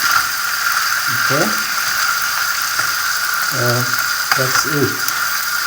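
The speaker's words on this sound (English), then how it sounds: "So we continue frying as we did for eggs and beef." Egg fried rice with beef sizzles steadily in a pan over a good-sized flame, a continuous close hiss running throughout, with someone speaking briefly over it.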